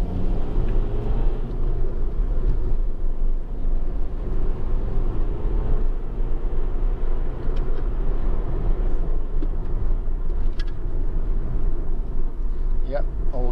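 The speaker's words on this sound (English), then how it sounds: "I'm just going to pretty much floor it and then hit the brakes quite hard for a test." A car on a test drive is floored and then braked hard, giving a loud, continuous low engine rumble with road noise that holds steady across the stretch, while someone talks over it.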